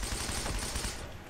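Gunfire in a first-person shooter video game: a dense, loud burst of rapid automatic shots rattles on continuously for about a second before dropping away.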